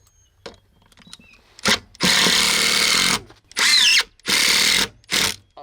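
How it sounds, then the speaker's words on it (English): A power drill drives a screw into a wooden floor joist while bracing a kitchen floor, with four loud whirring bursts of about a second each, separated by short pauses and preceded by faint knocks. "Keep it in the screw, Terry."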